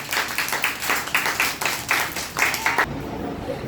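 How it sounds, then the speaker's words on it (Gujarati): Children clap at an anganwadi birthday celebration in a quick run of bursts. The clapping stops abruptly, leaving room noise behind. "ચલો બાળકો, તાળી પાડી દો."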